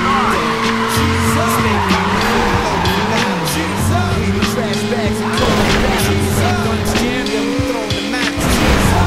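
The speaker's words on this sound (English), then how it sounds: "try a burnout to heat your tires" Car tire burnout at a race start in the Midnight Club 2 video game, a sustained squealing skid over a revving engine that rises and falls in pitch, loud and continuous, with a voice speaking briefly.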